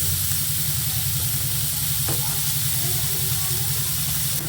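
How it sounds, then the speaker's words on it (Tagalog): Beef and mushrooms sauté in a pan with a steady, close sizzle and hiss that runs unbroken, with faint stirring. "Gisa ko lang."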